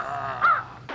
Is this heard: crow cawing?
yes